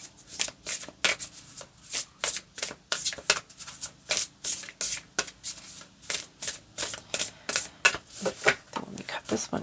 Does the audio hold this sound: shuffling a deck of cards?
yes